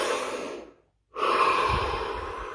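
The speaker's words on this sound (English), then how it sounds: "Last one, deepest breath still." A deep breath drawn in stillness: a steady airy exhale fades to a brief silence, then a loud, close inhale rushes in and trails off slowly.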